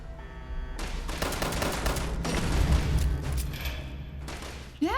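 Gunfire in the video game Fallout 76: rapid automatic bursts crackle loud and close, with a dense rattle of shots running for several seconds before cutting off abruptly.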